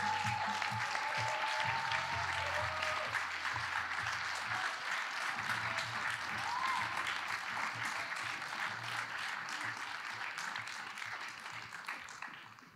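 Audience applause welcoming actors onstage at a film festival screening Q&A, a sustained dense wash of many hands clapping through the hall, steady for about twelve seconds and fading slightly at the end.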